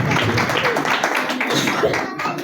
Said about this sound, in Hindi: जोरदार तालियां जाएंगी